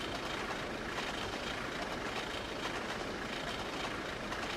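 A Pacific steam locomotive, the LNER A3 Flying Scotsman built in Doncaster, runs in the Trainz game. It gives a steady, dense rumble of running wheels and rail noise, continuous and even at moderate volume, with no distinct beats.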